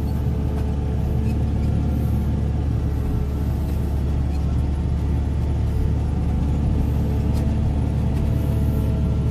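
A Cat 140K motor grader grading crushed rock, its diesel engine a loud steady low rumble heard close from the cab, droning continuously without clear revving.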